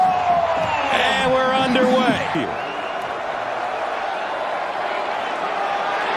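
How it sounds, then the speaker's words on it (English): A sellout stadium crowd in Minneapolis at an Ohio State versus Minnesota college football game. A broad, loud roar and cheering run throughout, while a commentator talks over the top near the start. "Sellout crowd"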